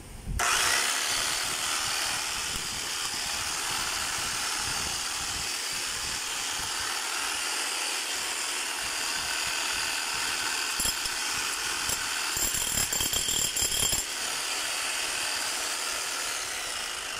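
A DeWalt D25899 10 kg demolition hammer runs in a chipping test, giving a loud, continuous rattling roar close by for the whole stretch, with a few harsher bursts near the end.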